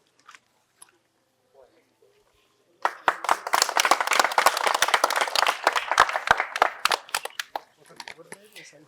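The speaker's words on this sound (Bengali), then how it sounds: "জোরে হাততালি হোক।" After near silence with a few faint sounds, an audience at a medical college quiz bursts into applause for a prize winner, dense handclapping that holds for several seconds, then thins out into scattered claps.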